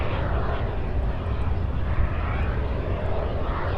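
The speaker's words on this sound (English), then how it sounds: "UPS 328 now on the move. This one's the next takeoff." UPS cargo jet taking off from runway 35 right, a dense steady roar of engine noise at moderate distance that stays constant across the short stretch, with no speech.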